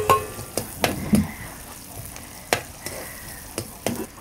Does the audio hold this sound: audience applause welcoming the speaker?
no